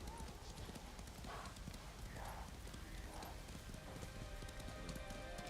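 Hooves clip-clop in a quick galloping rhythm as a horse runs in the samurai video game Ghost of Tsushima, set against a rain-like wash of ambience, with a faint voice talking underneath.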